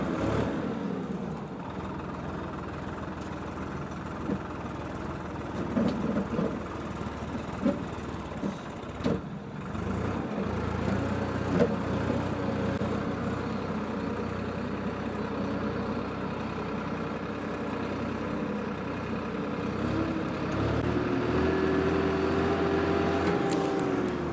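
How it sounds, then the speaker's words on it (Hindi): A tractor engine runs on an organic farm with a continuous low rumble, close and steady, rising slightly in loudness partway through, with occasional knocks and a faint whine near the end. "ट्रैक्टर चलाने में तो मज़ा आ ही रहा है"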